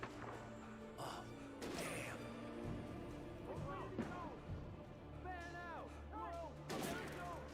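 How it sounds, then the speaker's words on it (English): Gunfire aimed at the player in the video game Alan Wake, several sharp shots scattered through the scene under continuous talking and game noise, mid-loud and somewhat masked. "They're shooting at me."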